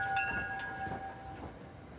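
A commuter train bound for New York rumbles along the rails at moderate distance, with a faint high tonal squeal or horn note drifting over the steady low clatter.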